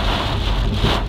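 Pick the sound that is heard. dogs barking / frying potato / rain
rain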